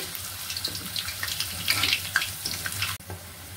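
Rosh bora batter drops sizzle and bubble in hot oil, a close, crackling hiss with bright spattering bursts that rises and falls, then briefly cuts near the end.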